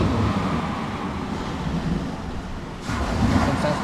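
Heavy rain and wind over rough surf in Cebu, a steady broadband roar of rain, gusts and breaking waves that dips briefly near the end, then swells again, no voices.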